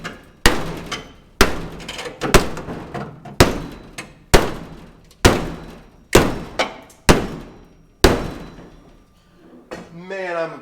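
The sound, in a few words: bashing out a dent in a car panel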